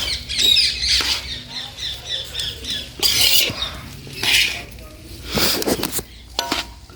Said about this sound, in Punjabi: ਤੋਤੇ ਲੱਗੇ ਹੋਏ ਆ ਖਾਣ ਟੁੱਕ ਟੁੱਕ ਕੇ ਥੱਲੇ ਸੜ ਦਿੰਦੇ ਆ